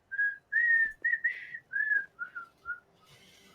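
Whistling from characters in the video game Satisfactory: a string of short, clear, tuneful whistled notes in an irregular melodic rhythm, close and fairly quiet, with almost no other sound around them.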